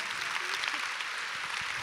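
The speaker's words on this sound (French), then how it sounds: "merci de l'applaudir" An audience at a women's business forum workshop claps steadily and fairly close, a continuous wash of hands with a few faint voices mixed in.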